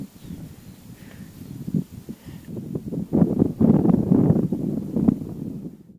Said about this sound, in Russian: Только ветер.